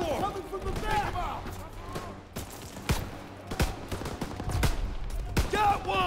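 Pistol gunfire in the World War II shooter Call of Duty: WWII, a rapid series of sharp, loud shots with scattered distant gunfire in a tense combat scene, while players talk over the action.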